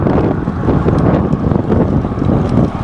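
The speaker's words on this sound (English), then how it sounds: "Riding east over Lake Houston. Got some headwind, not real bad" Headwind buffeting a bike rider heading east over Lake Houston under overcast skies, a loud, continuous low rumble of wind across the microphone with gusty swells and no voices.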